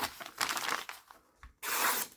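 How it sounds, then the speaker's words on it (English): A razor-sharp Defiant 7 Servo EDC knife slices through soft paper, making close crisp tearing and rustling cuts in several strokes with a brief pause, then a final loud continuous slice. "Let's do this paper test."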